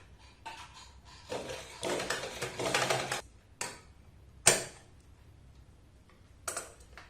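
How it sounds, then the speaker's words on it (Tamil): A sewing machine stitches fine lace onto fabric in short bursts of rapid mechanical clatter, with quiet pauses and sharp clicks between the runs, heard up close and fairly faint. "இப்போ இந்த லேஸை அதுக்கு மேலாலேயே இப்படி தைச்சிட்டு வரணும்"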